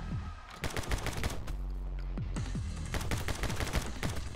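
Rapid gunfire from a new weapon in the action game My Friend Pedro, quick bursts of sharp shots with short pauses between volleys, close and fairly loud.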